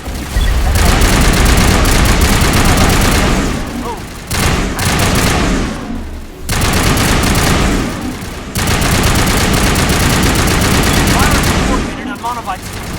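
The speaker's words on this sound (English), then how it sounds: "Blasting bad guys with my boomstick" Shotgun blasts fill a firefight in the Mass Effect action game: loud, rapid bursts of close gunfire run almost continuously, broken by a few brief pauses.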